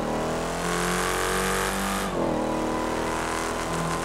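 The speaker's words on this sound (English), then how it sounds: "This truck is so loud." A loud truck engine in the video game GTA 5 roars steadily up close, holding a rich droning tone before the revs drop and then climb again, with no talking over it.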